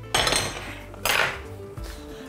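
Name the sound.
covering the pot with its lid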